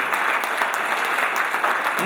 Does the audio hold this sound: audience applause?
yes